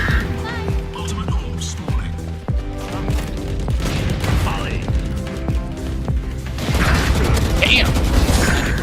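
Valorant gameplay with a weapon being reloaded: close mechanical clicks and clacks among bursts of gunfire and other game effects, with someone talking excitedly over the action.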